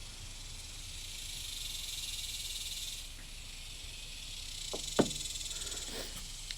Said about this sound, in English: Oh, I hear them bugs back there. Got a lot of bugs in the background.